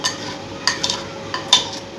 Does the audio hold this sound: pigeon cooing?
no